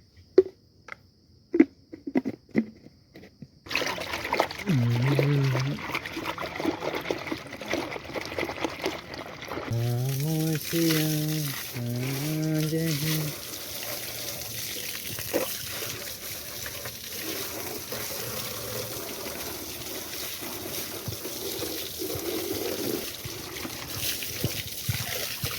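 Water pours and trickles from a motor-driven hose as a motorbike is soaked down for a wash at home, a steady close splashing under a running pump hum, with brief clatters and snaps early on and a person speaking intermittently.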